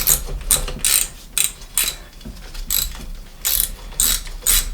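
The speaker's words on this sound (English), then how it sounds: "we're going to take our 15 millimeter wrench and we're going to break it loose" A 15 mm wrench ratchets on a rusty three-piece bottom bracket bike crank nut, a series of about ten crisp, close metallic clicks in an uneven rhythm as the nut breaks loose.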